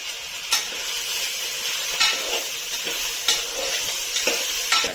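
Potatoes and brinjal with beans frying in a pan, repeatedly stirred with sharp spatula scrapes at regular intervals over a steady sizzle, close and clear with no voices.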